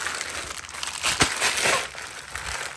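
Plastic grocery packaging crinkles and rustles close by for a few seconds, with one sharper crackle in the middle.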